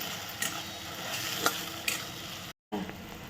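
A pan of onion mixture with salt and a ground garlic and green chilli paste being stirred, with soft scraping strokes over a low steady sizzle and a brief cut to silence near the end.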